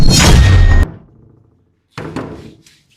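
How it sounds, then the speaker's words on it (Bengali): A door is pounded hard in two bursts: a loud, sustained battering up front, then after a short pause a second round of sharper, closer thuds that fades out. "এত জোরে দরজাটা ধাক্কাইতেছে"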